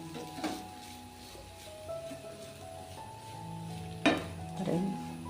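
Chicken filling freshly topped with coriander leaves being stirred in a pan, a soft low sizzle with a few sharper spoon scrapes against the metal, close and moderately loud, no voices.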